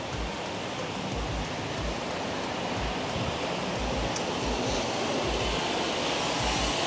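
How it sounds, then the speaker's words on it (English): A large outdoor water fountain on a city walking tour splashes in a steady, dense rushing wash, constant and close, with no talk over it. "I'll just show you the water fountain as well"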